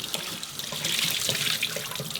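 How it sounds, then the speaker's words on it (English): Cold tap water runs steadily over wool freshly dyed with onion skins, a continuous close splashing rush at an even level with no voices. "Just using cold water,"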